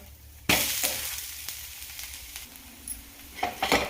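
A carrot and beetroot ghavan roasting on a hot pan sizzles steadily, with a sharp clatter as it is flipped and a few later scraping knocks, close and without talk.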